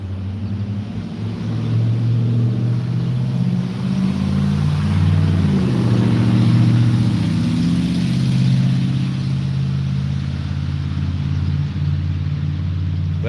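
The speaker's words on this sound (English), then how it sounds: "I'll sit there and just watch the traffic" Road traffic with cars and trucks passing by, engines rumbling and revving as they drive past, steady and fairly loud with a swell around the middle.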